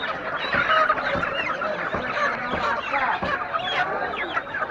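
Sonali chickens at a busy poultry market cluck and squawk in a dense, continuous chorus, close and loud, with overlapping calls throughout.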